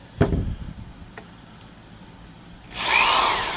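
A Bosch Scintilla 1194 two-speed hammer drill gives a few short knocks and handling clicks, then spins up and runs with a loud steady whine close by. No one speaks.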